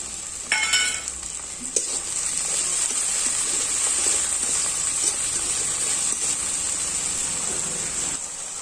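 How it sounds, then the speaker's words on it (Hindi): Green onion greens fry in a hot pan with a steady, bright sizzle and hiss throughout, joined by an occasional stirring clink near the start and no talking. "अब हमारा हरा वाला प्याज भाजी डाल देंगे इसमें और अच्छे से इसे भी भून लेंगे।"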